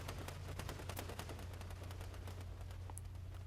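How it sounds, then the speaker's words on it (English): Rapid, steady gunfire from a multiplayer shooter game tournament, a dense stream of shots over a constant low engine-like hum, with no talking. "I believe that's who's getting shot at right now."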